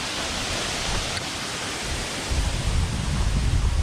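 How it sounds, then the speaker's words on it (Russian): A jungle waterfall rushes as a loud, constant broadband roar close by, swelling with a deeper low-end surge in the last second and a half, with no voices. "К водопаду пришли."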